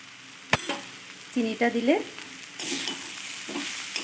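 Banana flower curry is stirred and sizzling in a pan, with a sharp scrape of the spoon, then soft frying hiss and intermittent stirring sounds while a voice speaks briefly.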